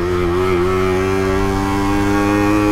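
A moped engine, in a setting where Suzuki mopeds are being tuned, runs close and loud with a steady buzzing tone that shifts slightly in pitch as it rides by, with no talk over it.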